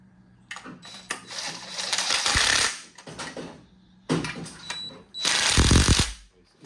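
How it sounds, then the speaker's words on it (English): A power driver tightens clutch bolts on a 1972 MG, running in two loud whirring bursts of a couple of seconds each with short gaps and rattling between them. "now we're just gonna drive the bolts with this gently and consistently from all sides"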